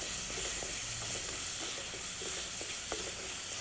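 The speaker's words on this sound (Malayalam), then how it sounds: "അത് നല്ലപോലെ ഒന്ന് വഴറ്റിയെടുക്കാം." Four tomatoes sautéing in a pan for rasam, giving a constant soft sizzle with faint stirring scrapes and light clicks of the spoon, close and steady.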